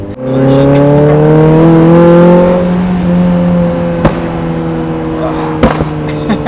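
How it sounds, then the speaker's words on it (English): A Mazda Miata engine with a pops-and-bangs tune drones at a steady pitch, then two or three sharp exhaust pops crack out between gear changes. "they pop between shifts too, which is cool. Yeah. Like a small little pop."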